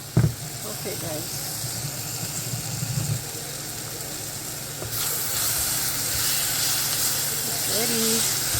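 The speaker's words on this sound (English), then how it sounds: "Let's cover it and let it steam." Cabbage steams under a lid in a Dezin electric pot, giving a steady soft hiss and bubbling, with a clatter near the start and the steam noise swelling louder partway through.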